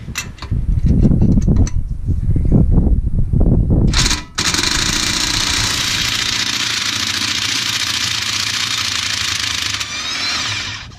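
Impact wrench or power tool working a lower control arm bolt loose on a 2003 Jeep Wrangler Rubicon, loud broadband whirring and rattling bursts, then a sharp pause and a long steady high-pitched tool run to the end.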